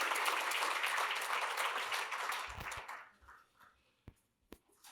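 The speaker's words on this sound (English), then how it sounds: "Please join me in a big round of applause." An audience at a Texas business award luncheon applauds loudly and steadily as an award is presented. The clapping fades out after about three seconds, leaving a few soft thumps and scattered claps in a quiet room.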